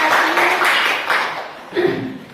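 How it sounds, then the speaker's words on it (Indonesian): Children at a morning class applaud together in a brisk, scattered patter of claps that swells, thins, then flares briefly again, with young voices mixed in. "Oke, tepuk tangan buat semuanya."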